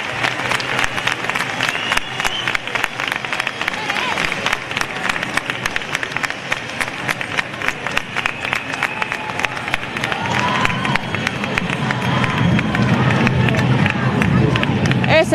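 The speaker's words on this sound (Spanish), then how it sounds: "Escuchamos aplausos" Crowd applause and cheering rise from a Women's Day march in the street, with rapid dense clapping, shouts and babble of many voices, growing fuller toward the end.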